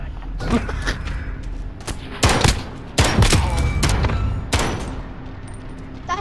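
Gunfire in Call of Duty: Modern Warfare comes in loud, close bursts of rapid shots and heavy thuds, some clustered tightly and others spaced out, with brief pauses between volleys.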